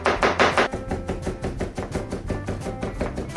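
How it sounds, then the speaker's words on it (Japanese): A knife finely chops a leftover ungrated end piece on a cutting board, with rapid, steady, close taps that are loudest at first and then settle into an even rhythm, with no talk. "細かく叩いて一緒にポイ"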